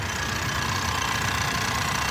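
A Ford Edge's 2-liter twin-scroll turbo EcoBoost four-cylinder idles under the open hood, a steady, close mechanical hum and whir with an even, unbroken loudness throughout.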